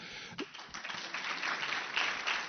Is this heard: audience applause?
yes